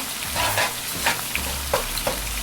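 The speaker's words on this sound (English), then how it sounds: "we're going to add 2 cups of basmati rice. We're going to stir that around" Basmati rice stirred through melted butter in a pan over medium flame, a steady close sizzle broken by several quick scraping strokes of the spoon.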